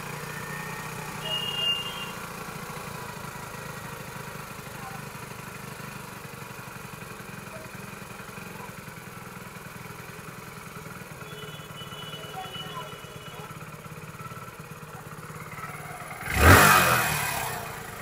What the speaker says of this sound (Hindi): बाइक का RPM देखो कितना हाई है, पूरा हाई है गाइस। अभी इंजन ठंडा है इसीलिए हाई हो रहा है।